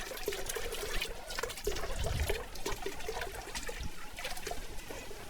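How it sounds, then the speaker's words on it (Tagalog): Steady running water trickles and splashes continuously from a hose, a close, even wash of liquid with no voices. "Ito nagikan ng tubig guys sa may hose."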